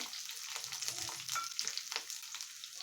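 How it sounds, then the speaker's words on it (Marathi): Capsicum and onion cut in large pieces sizzle hard in a pan on full gas while being stir-fried, a continuous hiss broken by brief scraping stirs. "तर इथे आपल्याला गॅस फुल करून परतून घ्यायचे आहे ते फुल गॅसवरच परतायचे आहेत"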